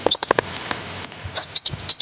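Wild tighik bird calling outdoors, a few short high chirps in quick bursts at the start and again near the end, with faint handling noise and quiet voices in the background.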